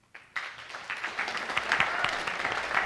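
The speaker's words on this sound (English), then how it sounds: "Let's a round of applause" Audience applause at a school STEAM Week event in a theater, starting abruptly and building into steady, moderately distant clapping from a crowd for nearly three seconds, with a voice briefly audible.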